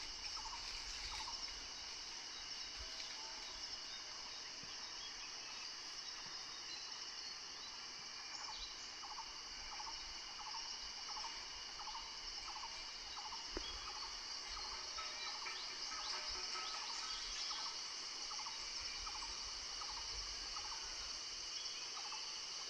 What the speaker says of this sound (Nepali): चराहरूको आवाज